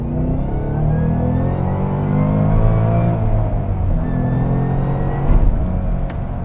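2013 Ford Shelby GT500 engine accelerating in second gear from low RPM, a deep, loud, continuous rumbling roar that rises steadily in pitch with a brief surge near the end.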